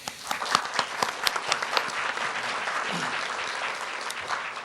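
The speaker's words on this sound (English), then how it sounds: "Please welcome him with a big round of applause." Conference audience applauding a speaker's introduction at a 2014 ombudsman global conference, with dense steady clapping from a sizable crowd, a few sharper claps standing out at the start, sustained for the whole stretch.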